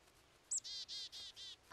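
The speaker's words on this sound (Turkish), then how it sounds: "Bir kuş. Büyük anne bak elime kondu." A cartoon bird in an animated Caillou episode chirps in a quick run of about five bright, close tweets, followed by a short rising call.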